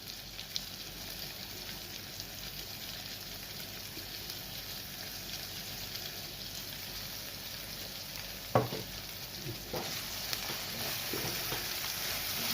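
Masala and stuffed ridge gourd being stirred in a frying pan for a ridge gourd masala curry, a steady low sizzle running throughout with a few louder scraping stirs near the end.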